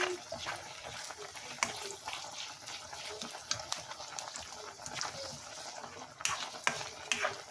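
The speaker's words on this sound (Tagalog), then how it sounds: "Haluin na natin siya or karaw-karawin sa Bisaya ba ang tawag doon?" A spoon scrapes and stirs spaghetti sauce in a pan, with irregular clinks and wet sloshing sounds that are close and moderately loud against a faint kitchen background.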